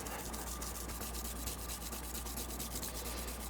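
Soft, rhythmic rubbing of a wet sanding pad worked by hand over a carbon fiber grip, quick even back-and-forth strokes, close and quiet.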